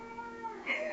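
A pet cat meows during a yoga session, a single drawn-out, rising and wavering cry that swells louder toward its end, heard close by with no talk over it.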